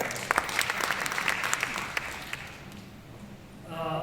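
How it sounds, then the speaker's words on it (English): A live audience claps in a steady round of applause at an Arangetram, a classical Indian dance debut recital, the dense patter holding for several seconds before thinning out, with a voice starting near the end. "She deserves a good round of applause."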